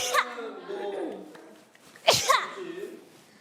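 Two sharp sneezes from one person, the first near the start and a louder one about two seconds later, with voiced sounds and laughter around them.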